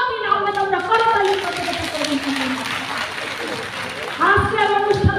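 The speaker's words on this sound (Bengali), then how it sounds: "আমরা করতালি" Applause from the audience at a BNP women's wing (Mahila Dal) 47th founding anniversary rally: steady, dense clapping that runs the whole time under an amplified voice speaking over a loudspeaker.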